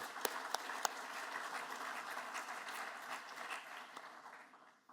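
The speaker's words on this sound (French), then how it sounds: "Et je vous propose d'applaudir ce nouveau membre et ses représentants, Elmar van Buren et Anne Dubost." Conference audience at the AFRA 2024 colloquium in France applauds newly welcomed members, starting with a few crisp separate claps that swell into steady, moderately distant applause and then taper off at the end.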